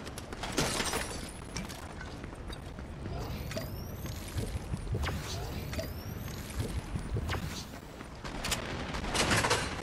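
Rapid Stinger SMG fire in the video game Fortnite comes in quick, sharp bursts mixed with other game effects, moderately loud over a busy background.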